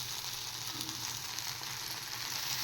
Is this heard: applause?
no